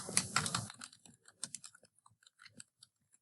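Quick run of light keystroke clicks on a computer keyboard while entering data into a table, a dense burst at first and then sparser, spaced taps close up.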